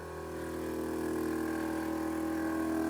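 Air ride suspension compressor powered up on a Mercedes 190E with the ignition on, giving a steady continuous motor hum with a tonal whine, running at constant level throughout.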